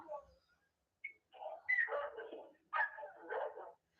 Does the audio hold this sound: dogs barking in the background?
yes